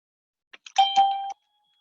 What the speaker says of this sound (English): Sorry for that interlude with the doorbell.